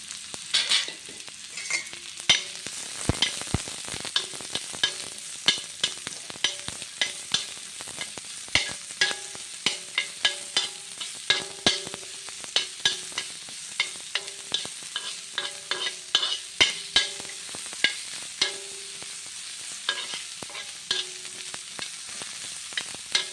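Chopped onion and green chillies fry in a pan while a spoon stirs them steadily, giving a dense run of sharp scraping strokes over a constant close sizzle, with no voices.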